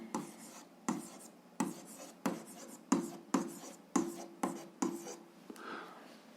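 Pen or pencil writing out a math solution on paper, a series of about nine short scratchy strokes in a fairly even rhythm, close and quiet, with no voice.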